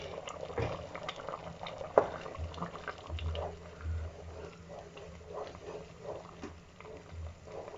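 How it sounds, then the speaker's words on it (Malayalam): A pot of creamy vegetable sweet corn soup simmers at a steady low bubble, faint and continuous, with a soft sharp clink early on and no talk over it. "ഇതിപ്പം തിളച്ച് വന്നിട്ട് ഇതാ നന്നായിട്ട് ക്രീമി ആയിട്ടുണ്ട്"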